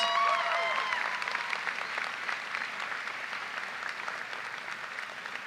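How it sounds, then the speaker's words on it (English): A commencement audience at a school graduation claps for a graduate, a dense and steady round of applause that starts strong and slowly thins over several seconds, with a faint voice now and then. "Let's give Lauren a round of applause"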